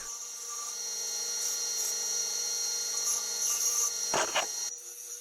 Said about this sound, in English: The vertical arm needs a bit of a dip sanded into it on the spindle sander.